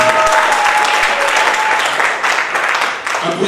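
Loud, dense applause from guests at a civil wedding ceremony right after the vows are accepted, a steady close wash of many hands clapping for several seconds.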